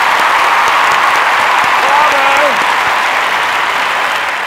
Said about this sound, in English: Will you please give them a huge round of applause?